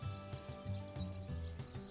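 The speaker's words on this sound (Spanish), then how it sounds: "se está escuchando jilguero, triguero, pinzón, ruiseñor común," Wild birds sing in an olive grove with goldfinch, corn bunting and chaffinch among them: a fast high twittering series of chirps early on, then fainter calls over a steady low background hum.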